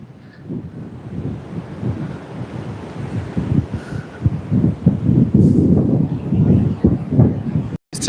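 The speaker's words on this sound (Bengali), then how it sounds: "এত বেশি বাতাস আজকে" Strong gusts of wind roar across the microphone on the seashore of Shah Pori island, a loud, continuous buffeting that swells and dips with the surf.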